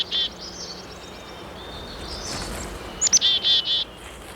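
A chickadee calls from woodland foliage, a quick, high chirp, then a run of four or five clear, evenly spaced notes over a steady outdoor hiss.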